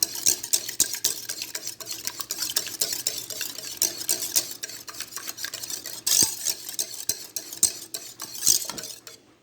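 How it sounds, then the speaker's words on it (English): Two whole eggs and an egg yolk whisked briskly in a bowl, rapid clicking and scraping strokes in uneven bursts, close and clear with no talk. "I'm going to give this a good whisk before I add this to my batter"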